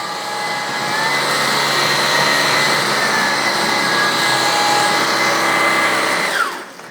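Hoover ONEPWR Emerge Pet and Shark Stratos Clean Sense cordless vacuum cleaners run together in a steady, loud, high-pitched whine for several seconds, then the motor winds down abruptly at the end, with no talking.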